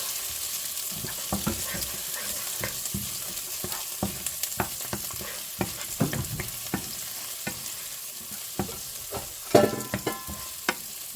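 Onions fry in a pan with garlic, a steady crackling sizzle broken by frequent clicks and scrapes of stirring, close and lively throughout, one louder clatter near the end; no speech.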